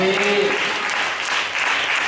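Church congregation clapping hands during a Sunday service, a steady dense burst of applause lasting a couple of seconds, with a brief voice audible at the start.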